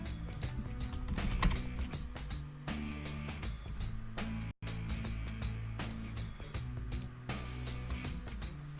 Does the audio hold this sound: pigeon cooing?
no